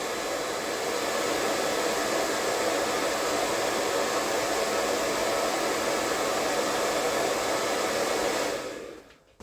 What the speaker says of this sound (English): Obviously I had to use the hairdryer to get the legs on